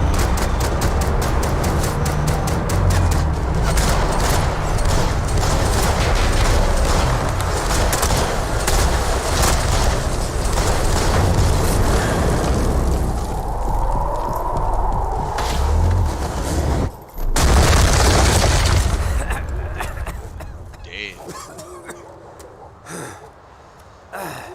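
Gunfire and explosions in the Max Payne 3 video game, a dense, loud, continuous barrage of shots and blasts that cuts out briefly near the end before a final burst, then fades quieter.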